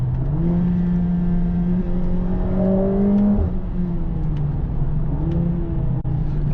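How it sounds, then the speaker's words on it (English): A 2025 Mercedes-AMG A45 S facelift hot hatch accelerates hard, its engine note climbing steadily and then dropping at an upshift, with a loud, continuous drone close by and no talking. "You can hear the exhaust and bangs when you upshift."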